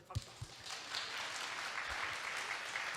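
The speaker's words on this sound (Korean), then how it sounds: "하나님께 한번 다시 박수" Applause from a church conference audience, a few scattered claps swelling into steady, fairly soft clapping that fills the room.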